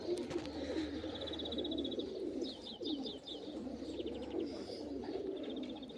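Pigeons coo steadily in a low, continuous murmur of overlapping calls, with a few higher chirps on top.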